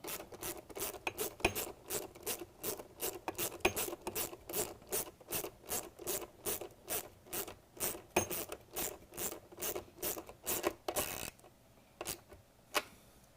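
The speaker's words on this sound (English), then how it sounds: "Then we can use the ratchet to get that tightened in." Ratchet tightening a bolt on a robot, a rapid series of sharp rhythmic clicks in quick close strokes, ending with a pause and a couple of final clicks.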